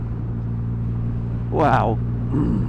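A 2020 Triumph Rocket 3R motorcycle engine pulls hard: a steady, loud, deep rumble with a low droning hum runs throughout, and a rider's voice briefly exclaims over it midway.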